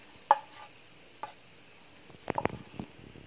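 A knife cuts a soft tomato into wedges on a board for an Ilocano pinangat, giving a few crisp, separate chopping strikes close by, with a short pause before a quicker cluster of cuts.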